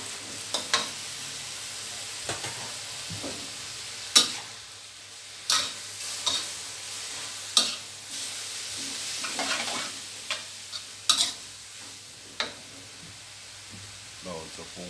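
Rice vermicelli noodles with crispy pork stir-fried in a hot pan: continuous close sizzling broken by sharp, repeated spatula scrapes and clanks every second or two, with a voice talking at times.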